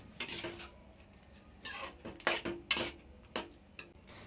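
A spoon stirs cooked rice with curd in a pot, giving soft scraping strokes and light metallic taps against the pot in an uneven rhythm, close and fairly quiet.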